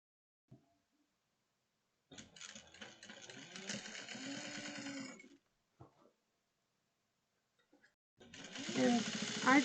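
A sewing machine stitches quilting cotton with fusible interfacing for a drawstring bucket bag: a fast whirring run of about three seconds, then a short pause and a second burst starting near the end, with a few small clicks in between.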